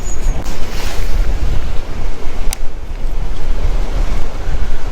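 Strong wind roars across a reservoir during bass fishing in near-typhoon weather, a loud, constant rush buffeting the microphone with water sloshing beneath it and no voices.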